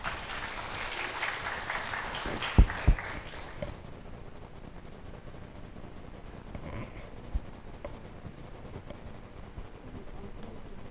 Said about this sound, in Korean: 뜨겁게 박수로 맞이하십시오